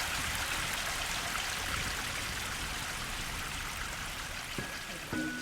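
A stream that feeds a farm along the Pennine Bridleway, a steady broadband rushing and babbling of flowing water, with a couple of faint clicks near the end.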